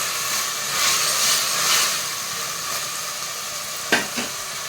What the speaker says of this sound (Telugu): పచ్చివాసన పోయేదాకా కలుపుకోవాలి.